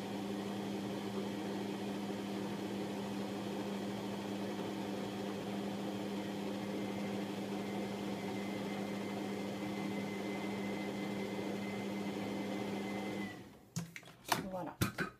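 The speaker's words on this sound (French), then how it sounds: "Et je vais mélanger de nouveau durant 15 secondes." Kitchen mixer at speed 3 blending a panna cotta mixture of cream and vanilla sugar, a steady droning motor whine held for about thirteen seconds before it cuts off, followed by a few sharp clatters; no one speaks.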